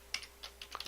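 Several quick, light keystrokes tap on a computer keyboard in a brief, uneven burst, faint and close in an otherwise quiet room.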